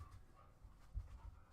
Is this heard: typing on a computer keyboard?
no